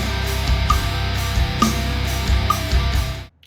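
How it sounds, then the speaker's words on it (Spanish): Playback of a recorded distorted electric guitar track, a dense sustained crunchy riff with steady rhythmic accents, loud and close before cutting off abruptly near the end. "2 de guitarras con distorsión que suenan casi iguales"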